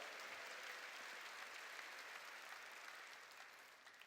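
A church congregation applauds together during a service, a dense, continuous wash of clapping that stays even and fairly distant before thinning slightly toward the end.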